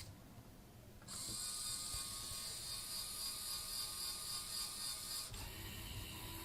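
A LEGO EV3 four-axis robot arm moves an object, giving a steady mechanical whirring and ratcheting gear whine that starts abruptly, runs for about four seconds and then stops, quiet and close with no talk.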